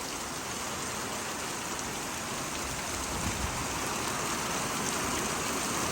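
Heavy rain pours down in a storm, a dense, steady hiss that fills the whole clip without letting up, with no voices.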